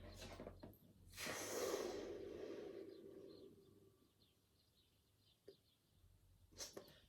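A person draws a sharp sniff through the nose during a breathing exercise, a single close breathy rush rising then fading, followed by quiet and a couple of faint clicks and short breaths.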